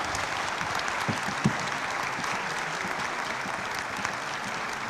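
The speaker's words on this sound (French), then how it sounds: "On vous applaudit." Applause from an audience at a public talk, steady clapping throughout at moderate distance.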